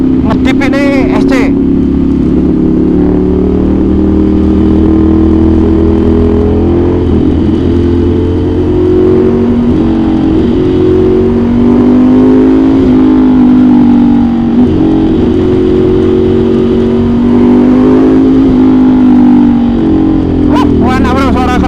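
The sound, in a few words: Ducati Monster 796 motorcycle revving with SC exhaust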